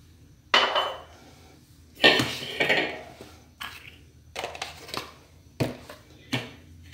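Wooden spoon or whisk beating cassava cake batter thinned with whole milk and coconut milk in a bowl, giving a handful of separate knocking, scraping strokes close by, with short pauses between them and no talk.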